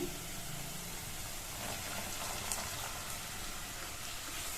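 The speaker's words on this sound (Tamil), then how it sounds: "ஹை ஃப்ளேம்ல வச்சு 2-3 நிமிஷத்துக்கு பீன்ஸை நல்லா வதக்கிக்கலாம்" Beans sautéing in a pan over a high flame, making a dense continuous hiss and sizzle at an even, moderate level throughout, heard close up with no talk.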